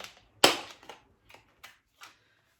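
A plastic container lid snaps open with a sharp click, followed by several lighter clicks and taps as it is worked open and shut.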